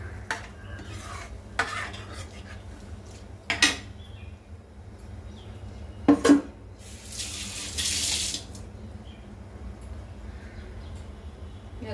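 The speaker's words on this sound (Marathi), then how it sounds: "कुकरच्या भांड्यातच पाणी घेतलंय ते पण घालतोय." Water is poured from a pressure cooker pot into cooked dal for Rajasthani dal bati, a soft kitchen splash and trickle with a few sharp utensil knocks and clinks against a low steady background hum.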